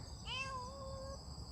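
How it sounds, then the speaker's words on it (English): A single drawn-out cat meow sounds close by on a street in Yeosu, South Korea, rising and then trailing off over a low, steady background hum. "We got another cat over here meowing."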